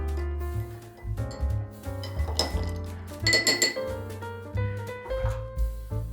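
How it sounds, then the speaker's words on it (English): Ice clinks against a mixing glass as a Manhattan cocktail is stirred, giving a run of light, bright glassy taps over steady background music. "While you can shake this, I prefer the stirring method."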